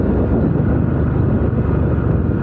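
A Honda Highness CB350 motorcycle cruises in fourth gear at about 60, its engine giving a smooth, steady low rumble mixed with wind rush, loud and continuous with no talking.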